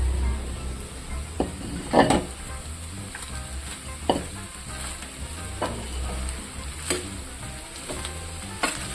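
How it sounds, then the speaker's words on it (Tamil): White rice stirred into fried masala for sweet corn fried rice in a hot pan: a steady, close sizzle with irregular spoon scrapes and soft knocks against the pan, with no talking. "நம்ம இந்த மசாலைக்கு எவ்வளோ வேணுமோ நம்ம அவ்வளோ சாப்பாடு போட்டு நம்ம மிக்ஸ் பண்ணிக்கலாம்"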